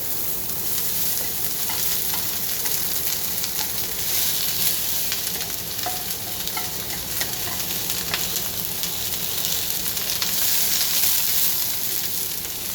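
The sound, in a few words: onions frying in a hot pan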